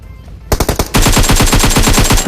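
Gunfire in the PUBG Mobile battle royale game, with a few separate loud shots and then a fast, steady automatic burst of close, sharp reports that continues to the end.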